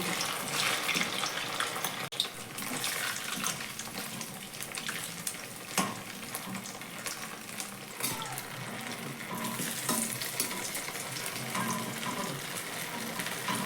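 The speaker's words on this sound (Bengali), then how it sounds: "যখন এই টিফিনগুলো ভাজা হয়ে যাবে নিচের দিকটা, কড়াইতে কিন্তু আটকে থাকবে না।" Tiffin snacks fry in hot oil in a kadai, a steady close crackling sizzle running throughout with faint scraping and water-like hiss.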